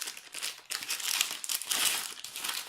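Pretty wrapping paper crinkles and rustles continuously as a gift from a Lush Christmas goody bag is unwrapped, close and fairly loud with brief tearing bursts.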